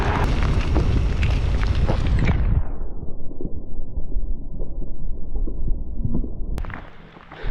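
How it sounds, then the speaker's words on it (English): Heavy storm outdoors with a dense roar of rain and rumbling thunder for the first few seconds, which then drops to a steady, softer downpour with scattered splashes and a sharp crack near the end. "Seen some lightning, heard some thunder."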